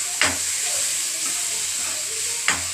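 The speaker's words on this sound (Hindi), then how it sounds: "अब मैं इसको 1 मिनट के लिए ऐसे पहले मसालों को भूनूंगी" Ground spices with coriander powder and turmeric roasting in a pan for egg bhurji, giving a steady soft hiss and sizzle with two brief louder scrapes of stirring.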